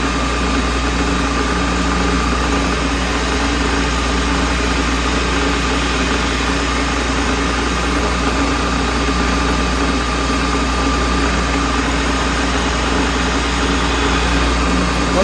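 A car engine fitted with a J-type overdrive, overdrive disengaged, runs at a steady idle after about ten minutes of running, giving a constant loud droning hum close to the microphone with no change throughout.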